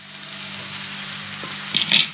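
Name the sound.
boiled sushni greens added to frying spices and vegetables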